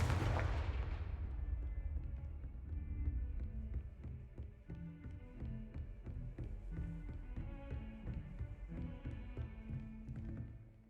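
Casting the Confringo fire spell in Hogwarts Legacy sets off one loud, booming blast at the start that quickly fades, leaving a game music score playing on.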